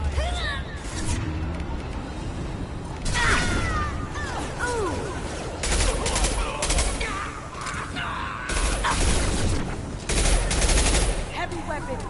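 Gunfire during a combat mission in Mass Effect 2, with rapid overlapping weapon bursts, sharp crackling shots and whooshes throughout, and squad voices calling out beneath the firefight.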